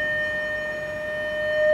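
Steady acoustic resonance tone from a physics resonance experiment, a pure, unwavering pitch holding loud and alone over a faint background hiss, swelling slightly at the end.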